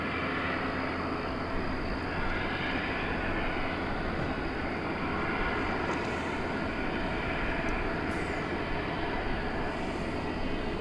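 At DFW Airport, an airplane taxis past with a steady, loud, broadband engine roar and rumble, sustained and even throughout without speech.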